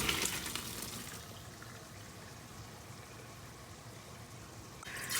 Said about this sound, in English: Now I'm filling it up with cold water.